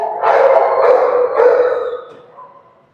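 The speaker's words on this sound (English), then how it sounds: "I don't know who is howling" A dog howls in one long, wavering cry that rises and sags over about two seconds before fading out, fairly loud and alone.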